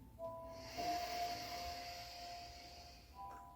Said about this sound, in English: let's invite a deep breath in